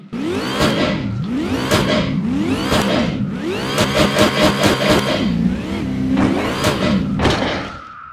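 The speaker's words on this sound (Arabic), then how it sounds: "تون تيربو صوت سوبر تشارج، وشكمان في الكبوت" A turbocharged, supercharged truck engine in the American Truck Simulator video game revs repeatedly and loudly, climbing and falling in several surging pulls with turbo whine and thuds, then settling at the end.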